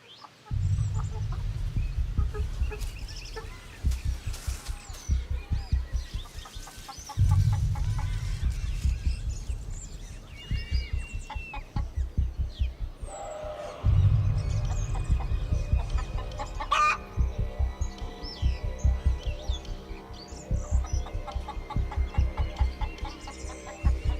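Chickens cluck steadily in a suburban henhouse, a dense, close chorus of repeated clucks with occasional louder bursts and brief pauses, continuing throughout with no talk.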